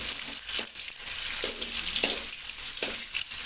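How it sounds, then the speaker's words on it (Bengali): Onions fry in a pan while being stirred, a soft sizzle with repeated scraping and crunching strokes at roughly half-second intervals, fairly quiet and close. "পেঁয়াজটাকে একটু নেড়ে নিতে হবে"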